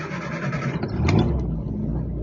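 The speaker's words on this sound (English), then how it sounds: "as you can hear that engine. That's pretty smooth." A 1969 Triumph Herald 1200 engine idles with a low, smooth rumble, swelling briefly as it's revved slightly before settling back to a steady run.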